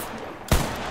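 A single sharp gunshot from the tactical shooter game Ready or Not cracks out midway through a quiet moment, loud and close with a short low thump.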